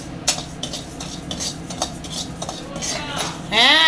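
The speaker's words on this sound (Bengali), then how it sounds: "চালটা একটু ভেজে নেব" Rice and whole cumin toast in a pan, with spoon clinks and scraping over a soft sizzle; a brief word is spoken and a whistling tone rises near the end.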